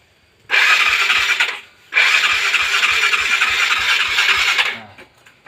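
A hard-starting motorcycle is cranked with its electric starter in two long, loud bursts of rapid, rhythmic cranking separated by a short pause, and the engine never catches.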